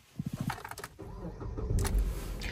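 A car starter cranks in a quick run of rapid chugs, then the engine catches and settles into a steady idling rumble close by.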